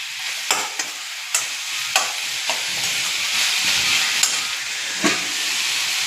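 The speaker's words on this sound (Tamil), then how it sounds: "எல்லாத்தையும் நல்லா ஒன்றா கலந்து விட்டுட்டு" Onion gravy sizzles steadily in a hot pan while a spoon scrapes and taps against it every second or so, close by.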